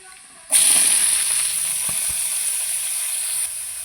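Chopped banana flower drops into hot oil over lightly browned fried onions and sets off a sudden loud, steady hiss. The sizzle holds at nearly constant strength, with a few soft knocks under it.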